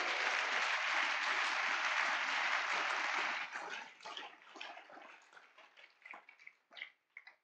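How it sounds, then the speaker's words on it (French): A church congregation at a Sunday worship service bursts into loud, sustained applause and cheering that fills the first half, then breaks into scattered, fading claps and a few shouts. "tu peux acclamer très fort pour le roi de gloire"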